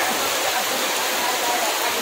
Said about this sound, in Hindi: बहुत धूम के बारिश हो रहा है।